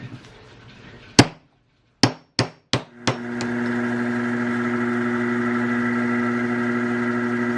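A part is hammered to press fit it into a bench. Four or five sharp close strikes come in quick succession, followed by a steady motor hum that carries on to the end.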